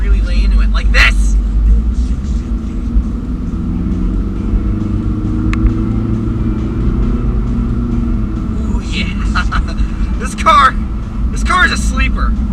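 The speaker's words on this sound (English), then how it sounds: "you don't really realize it's a diesel until you really lay into it, like this!" Low, loud engine rumble from a 2015 VW Golf TDI Sportwagen diesel under hard acceleration. The drone holds steady throughout, with someone talking over it now and then.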